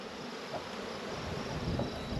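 Honeybees drone steadily in an outdoor bee yard among pallets of hives. The continuous buzzing has light wind noise mixed in and no speech.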